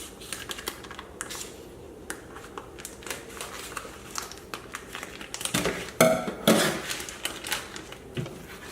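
Scissors snip and crinkle through plastic meal-kit packaging in a string of sharp clicks that grow louder and busier toward the end, with no talking.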